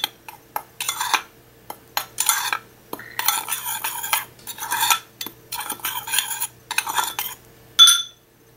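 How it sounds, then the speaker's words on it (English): A spoon stirs cinnamon into protein pancake batter in a bowl, with repeated bursts of scraping and clinking against the bowl separated by short pauses, close and clear. "I'm going to stir it around. Mix it all in."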